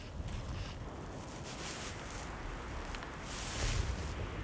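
Steady wind buffets the microphone outdoors, a continuous rumbling gust with broadband rushing noise that swells slightly toward the end, with no speech.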